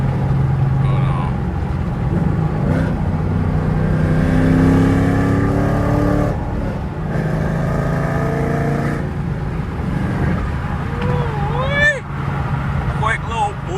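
A Camaro SS with a loud aftermarket exhaust accelerates hard from inside the cabin, its engine roaring and rising in pitch through the pull while someone talks over it.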